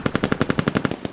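Rapid automatic gunfire from a squad-based shooter game's skirmish mode, about a dozen evenly spaced loud shots in quick succession that fade out at the end.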